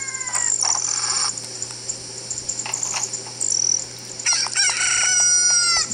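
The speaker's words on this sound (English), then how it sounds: "Rooster chicken thing." A rooster crows in the video game Ocarina of Time 3D, with repeated loud, close calls over continuous game ambience and a steady background hum, sounding alone without any talk.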